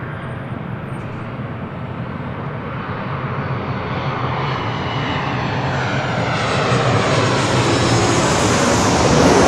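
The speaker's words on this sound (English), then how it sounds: "Delta Airlines 1530 coming in from Seattle on a 737-800" A Delta Airlines Boeing 737-800 arriving from Seattle at LAX roars overhead, a loud broad engine rush that swells steadily louder and higher in tone as the jet approaches.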